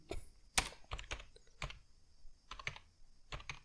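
Someone types a command at a Windows command prompt on a computer keyboard. The keystrokes are close and irregular, in quick clusters separated by short pauses.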